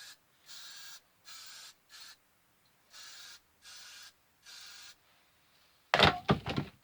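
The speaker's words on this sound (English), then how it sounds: "Run some spray through it." Hairspray hisses from a can through hair in about seven short, even bursts, close and fairly quiet, ending with a louder clunk of handling.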